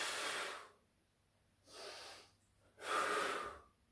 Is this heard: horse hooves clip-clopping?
no